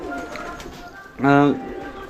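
A pigeon on a house rooftop gives one loud, clear coo near the middle, with quieter background sound before and after.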